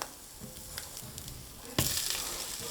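French toast donuts fry in a hot, lightly smoking pan with a low, steady sizzle that swells suddenly louder partway through, as if the pieces are pressed down; no talk.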